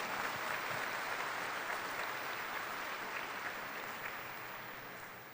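Dense, steady applause from a large audience at a high school graduation ceremony, continuous and fairly distant, slowly tapering off toward the end with no voices over it.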